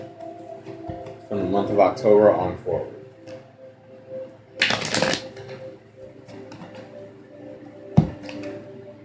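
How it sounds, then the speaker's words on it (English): A deck of tarot cards is shuffled in a general Cancer reading, with riffling bursts near 1.5–3 s and a louder flurry around 5 s, close and fairly loud; someone talks over part of it and a sharp tap lands near the end. "I got one more shuffle"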